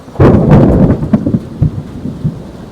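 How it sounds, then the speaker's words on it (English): Deep thunder rumbles and booms close by, swelling loudly at first and then rolling on in softer repeated grumbles, with a faint patter of rain beneath. "I love the sound of a good thunderstorm."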